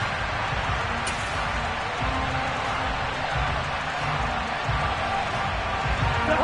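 Stadium crowd noise from an American football video game, a steady broad roar that fills the whole stretch at an even level, with a faint murmur of voices inside the din.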